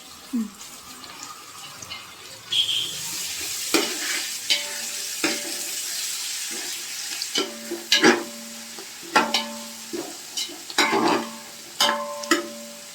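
Rayalaseema-style chicken curry masala sizzles in a pot while a spoon stirs it, with scraping strokes that grow more frequent and rhythmic toward the end. A few brief clinks are heard, and no one speaks.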